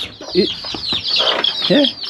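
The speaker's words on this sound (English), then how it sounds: "we are also trying to rear here some chicken" Chickens being reared at a home under construction cluck and chatter at close range, with a few clucks rising over a busy background of mixed noise.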